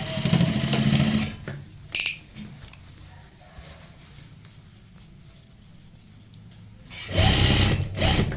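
A sewing machine stitches lace onto a garment sleeve, running in two loud bursts at the start and end with a quieter stretch between.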